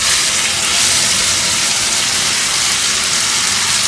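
Tomato pieces, peeled and cut into big chunks, frying in a pan: a loud, dense, steady sizzle that fills the whole stretch without pause, with no speech.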